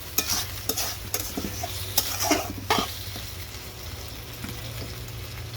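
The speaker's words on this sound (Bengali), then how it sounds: "এখন আমি এই আলুর মধ্যে কষায় নিব।" Potatoes being stir-fried in oil in a pan give a steady close sizzle, broken by several sharp scraping clicks of the stirring spoon against the pan, with no talking.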